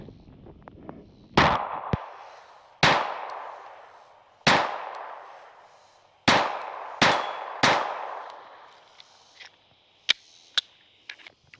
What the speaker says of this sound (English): Let's go ahead and get some first shots downrange with this little booger